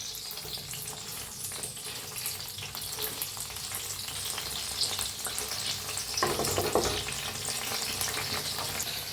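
Paneer pieces roast in a pan, a continuous sizzle and crackle with stirring scrapes that grows a little louder partway through, close and without speech.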